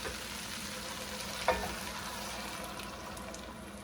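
Chicken stock hits a pan of spicy sausage rice with a short splash, and then a steady, quiet sizzle and bubbling simmer go on with no voices.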